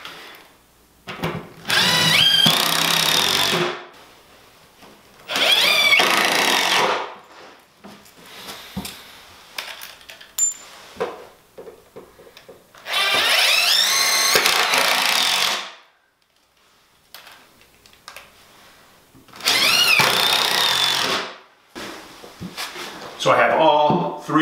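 A power drill drives screws into the wooden braces of a shelf, giving four loud, whirring bursts of a few seconds each, with quieter handling noises in the gaps between them.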